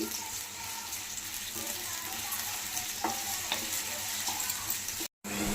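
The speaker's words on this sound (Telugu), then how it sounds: "ఈ ఆనియన్ బాగా బ్రౌన్ కలర్లో వచ్చేంత, గోల్డెన్ కలర్లో వచ్చేంత వరకు బాగా ఫ్రై చేయాలండి" Onion pieces frying in a pan for Andhra-style chicken curry give a steady close sizzle with scattered stirring scrapes, ending in a brief dropout of silence near the end.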